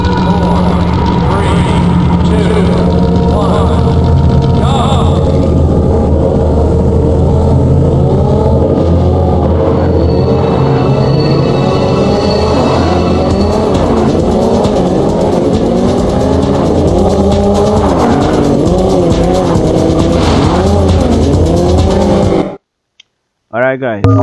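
Racing car engines in the video game POD (Planet of Death), loud droning and revving engine tones with rising and falling pitch sweeps, continuing for over twenty seconds before cutting to near silence at the end.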